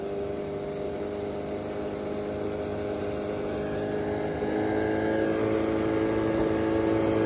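Outboard engine on a 1998 Carolina Skiff J16 with a rebuilt carburetor, humming steadily at low RPM, then rising in pitch and getting louder as the throttle opens.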